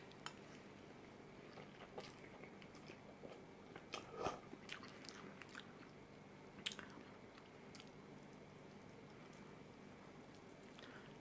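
Close, quiet chewing and slurping of spicy noodles, with soft bites, wet squishy mouth sounds and occasional light clinks of cutlery against a bowl, alone without talk.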